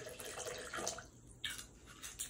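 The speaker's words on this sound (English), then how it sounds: "Pour y'all glass." Wine poured from a freshly opened bottle into a glass, a soft, faint trickle and drip of liquid that runs briefly, pauses, then resumes.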